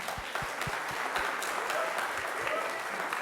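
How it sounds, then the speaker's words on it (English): An audience at a school activities rules meeting gives a coach a round of applause, with a few sharp nearby claps standing out at first before the clapping settles into a steady, moderate wash. "We need to give you a round of applause."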